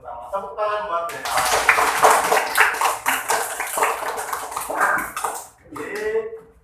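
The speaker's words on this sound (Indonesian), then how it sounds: "Tepuk tangan buat mereka." A classroom of students breaks into applause, a dense burst of clapping that swells for several seconds and then fades, with children's voices briefly heard at the start and end.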